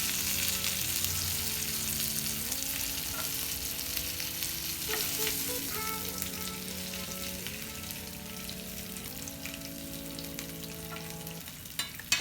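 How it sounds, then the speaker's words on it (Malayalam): Chicken pieces for Kerala-style chicken kondattam frying in a pan give a steady loud sizzle, broken by repeated scraping stirs at regular intervals. "ബാക്കിയുള്ള ചിക്കൻ പീസസും ഇതേപോലെ നമുക്ക് ഫ്രൈ ചെയ്തെടുക്കാം"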